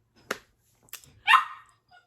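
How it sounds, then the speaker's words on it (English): A dog close by lets out a short yelp, then a higher whine and a sharper bark, with quiet gaps in between. "excuse my dog, he doesn't like to be locked up"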